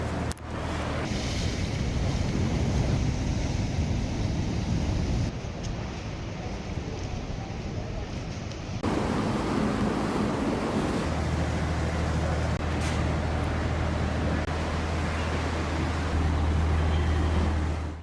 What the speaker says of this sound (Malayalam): രാക്ഷസ താണ്ഡവമാടുന്ന കടലും കാറ്റും വീശിയടിച്ചതോടെ